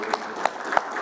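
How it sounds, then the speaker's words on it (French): Audience members applaud author Piero San Giorgio at a press conference in Tunis, a light, sparse patter of clapping with a few distinct sharper claps, brief and moderately quiet. "on peut l'applaudir quand même pour avoir fait"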